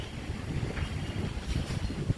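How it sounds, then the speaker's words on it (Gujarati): Strong storm wind gusting outdoors during a rainstorm with a power cut, a rough continuous roar buffeting the microphone, with no voices. "પવન જબરજસ્ત ફૂંકાઈ રહ્યો છે."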